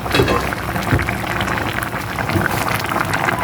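A steady bubbling roar of vegetables boiling hard in a pot, a dense continuous hiss with scattered pops throughout.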